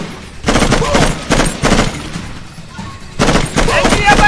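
Loud bursts of rapid automatic gunfire in the video game Raven Squad, during a jungle mission, come in several long volleys separated by short pauses.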